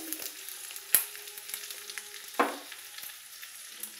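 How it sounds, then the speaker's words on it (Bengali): Green chillies fry in oil with vinegar and asafoetida for a spicy chilli pickle, a faint, steady sizzle broken by a couple of sharp clicks and taps. "লঙ্কাগুলো দিয়ে দিতে হবে তেলের মধ্যে। এবার দিতে হবে, অনেক দিন থাকে তার জন্য একটু ভিনিগার দিতে হবে, আর দিতে হবে একটু হিং,"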